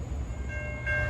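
NJ Transit commuter train arriving at Ramsey station during the evening rush, a low steady rumble with tonal ringing that brightens near the end, heard alone without talk.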